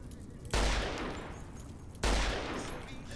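Two loud gunshots in a video game, each a sharp blast with a long decaying tail, about a second and a half apart.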